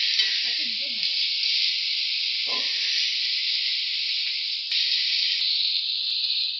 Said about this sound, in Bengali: এদিকে আলুগুলো ভাজা ভাজা হবে আর আদা রসুনের ভাজা হবে, একসাথে দুটো ভাজা হবে।